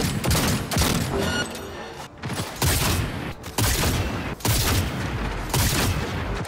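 Dense bursts of enemy gunfire in Cyberpunk 2077, loud and close, come in repeated volleys separated by brief pauses, with booming low-end impacts throughout.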